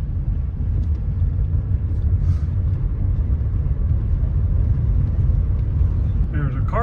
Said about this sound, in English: now let's take a drive over to La Poza Tyson Wash and see what that's like